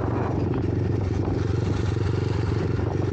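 A motorcycle rides along a narrow country lane, its engine a steady, close, rumbling drone with a fast throbbing pulse and no talk over it.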